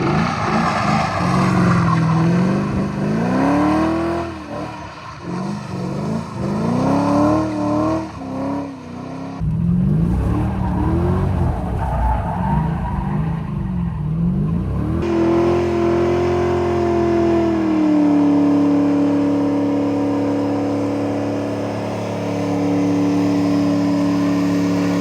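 A Mazda RX7 rotary engine, recently pulled from a swamp, runs and revs repeatedly, loud and close, with rising and falling pitch sweeps, then settles into a steadier high idle.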